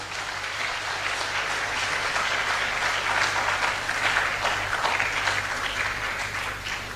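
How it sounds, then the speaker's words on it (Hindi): A crowd claps steadily for several seconds, a dense, even wash of applause that swells slightly in the middle before easing off. "एक बार तालियां बजाकर स्वागत करें आप।"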